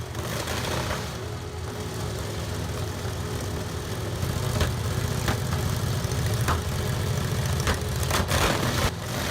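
A Continental W670 air-cooled radial engine runs with a steady, loud, rumbling drone that holds for the whole stretch, with no one talking.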